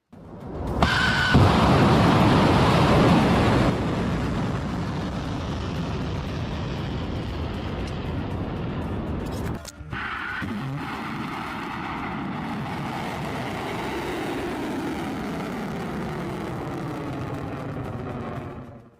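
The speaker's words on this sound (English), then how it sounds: "you're going to hear the launch of multiple EMAD ballistic missiles coming up right now" Iranian EMAD liquid-fuel ballistic missiles launch with a loud, sustained roaring blast that rises sharply, holds for several seconds, drops, then resumes as a long broad rumble, with no voices.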